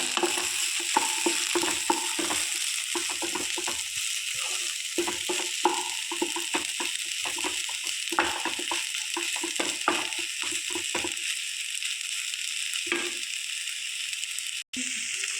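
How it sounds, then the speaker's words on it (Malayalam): Spicy Kerala-style brinjal mezhukkupuratti stir-fry is stirred in a pan over a low flame: a steady close sizzle broken by repeated spatula scrapes and clatter, the stirring easing off near the end while the frying hiss continues. "ഇടയ്ക്ക് നമ്മൾ ഇത് ഇളക്കി കൊടുക്കാൻ വേണ്ടി നമുക്ക് തുറക്കാം."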